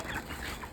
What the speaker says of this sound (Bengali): বস্তার মধ্যে মুরগি ভরা ভরা